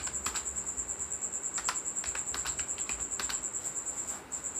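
Keywords are tapped out on a computer keyboard in quick, uneven bursts of close clicks, with a steady high electronic whine running underneath and no voices.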